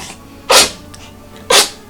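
Two sharp sneezes, about a second apart, close and loud against a quiet background.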